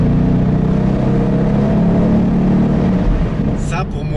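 A big 5-litre V8 in a Ford Mustang Bullitt muscle car growls loudly and steadily at close range, with a deep rumbling note that holds for about three seconds before easing off.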